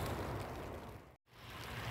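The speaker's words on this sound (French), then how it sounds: "je sais pas si vous entendez le bruit de la pluie, mais alors ça tombe à des lacs" Heavy rain pours outdoors beside a polytunnel greenhouse being rebuilt in northern France, a steady, fairly faint broadband hiss that cuts out briefly midway before resuming.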